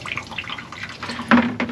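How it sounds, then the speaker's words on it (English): Clean water splashing and trickling over freshly husked black walnuts in a container, with irregular drips and a brief louder gush near the end, close by. "kind of rinse some clean water over them"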